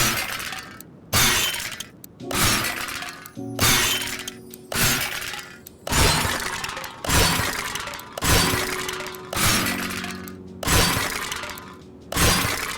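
Repeated glass smashing in the video game CMS 2021, about ten loud crashes of shattering glass at a steady rhythm roughly every second and a quarter, each with a brief tinkling tail, close and alone.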